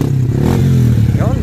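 A Yamaha Sniper 150 motorcycle with a dead battery is kick-started, its engine catching and revving briefly with a sliding pitch, close and loud, along with mechanical clatter.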